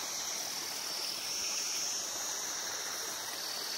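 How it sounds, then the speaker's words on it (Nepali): A waterfall on a jungle trail pours steadily, a broad continuous hiss of falling water heard close and alone with no pauses. "कति राम्रो झरना।"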